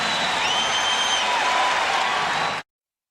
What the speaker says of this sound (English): And the Forum is jumping. The crowd trying to get the home club going.